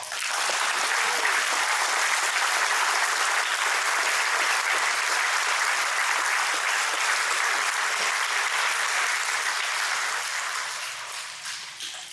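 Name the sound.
audience applause at 9/11 memorial service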